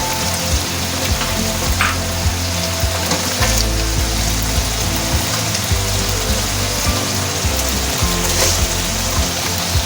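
Dried coriander seeds, cumin and fenugreek seeds fry in hot oil for an aloo gosht masala, making a loud, dense, continuous sizzle that crackles steadily close up with no voices.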